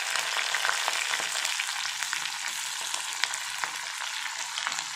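Garlic and green chillies frying in hot oil in a pan for a mushroom fry give a dense, continuous close sizzle with scattered pops and light stirring, no speech over it.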